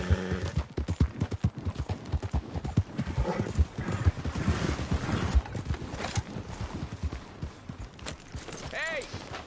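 A galloping horse in Red Dead Redemption 2, hooves clip-clopping in a fast, uneven rhythm close up, with a short whinny near the end and a voice calling out briefly.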